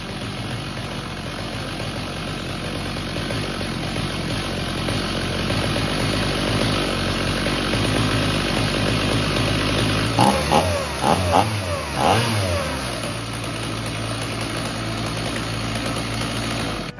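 Old STIHL chainsaw engine running steadily at idle, a continuous buzzing drone throughout with a brief burst of clattering, uneven knocks in the middle before settling back to a steady run.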